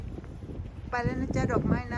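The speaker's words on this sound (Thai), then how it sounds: "ลมแรงจังเลยค่ะ ลมเข้าวีดีโอแรงมากเลย" Strong wind buffets the microphone with low rumbling gusts throughout, and someone speaks over the blustery noise in the second half.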